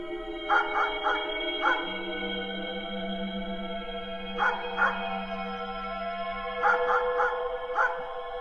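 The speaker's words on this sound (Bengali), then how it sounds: "কুকুরটা আমার দিকে তাকিয়ে এইভাবে ঘেউ ঘেউ করছে কেন?" A dog barks at a newcomer in a quiet spot. Short bursts of two to four barks come at intervals over a steady low hum, moderately close. No one speaks.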